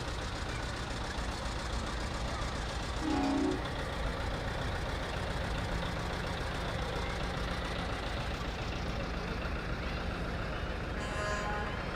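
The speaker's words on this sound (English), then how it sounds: "Next up, John Deere tractor." A John Deere tractor engine rumbles at a parade, a steady low drone running continuously and fairly close, with a brief tone and faint beeping near the end.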